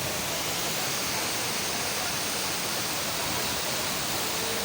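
A continuous, dense roar of falling water from the Chavthada waterfall in Parshuram village, Konkan, close and steady, with no other sounds breaking through.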